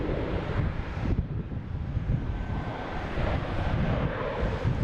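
A Delta airliner, flight 113 from Rome, comes in to land at Boston Logan, heard as a steady distant jet roar blended with gusty wind buffeting the microphone.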